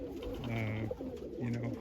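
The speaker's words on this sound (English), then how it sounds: "really happy with these birds" Racing and Birmingham roller pigeons coo in two close, low, rolling phrases separated by a short pause, with a faint soft bird call above.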